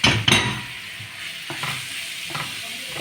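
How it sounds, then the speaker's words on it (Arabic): Three finely chopped onions frying in ghee or oil, a continuous close sizzle with a couple of stirring clatters at the start and soft scrapes later, no talking. "حطينا فيها ماده دهنيه، سمنه، زيت اللي انتوا تفضلوه، مع ال3 بصلات الناعمين بتوعنا"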